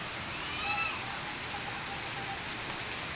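Heavy rain in Binangonan, Rizal pours down in a steady, dense hiss, loud and unbroken throughout.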